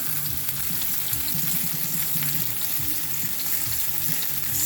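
Beef brisket sizzling in a pan with olive oil, a constant close crackle of frying, with faint clattering beneath and no voices.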